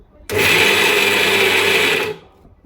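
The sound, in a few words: mixer grinder grinding peanuts and garlic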